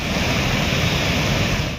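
Strong floodwater rushing through a swollen stream channel after heavy rain, a loud, dense, continuous roar with no pauses or voices.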